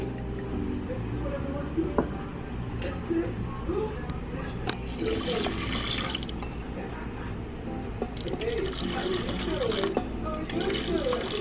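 Tap water pours into a rice cooker pot holding three cups of rice, an Aroma SmartCarb ARC-1120SBL, with drips, splashes and squishy sloshing near the mic while a voice talks over it.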